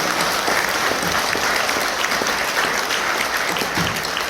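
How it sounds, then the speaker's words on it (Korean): Loud, dense applause from a crowd welcoming guests at a Liberation Association (광복회) gathering, a continuous roar of clapping that holds evenly throughout without any speech. "여러분 큰 박수로 환영해 주시기 바랍니다"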